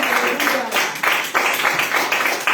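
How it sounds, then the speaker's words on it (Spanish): A church congregation applauds during a sermon, loud broadband clapping that comes in several surging waves, fairly close, with a voice audible at times. "Un aplauso al Señor"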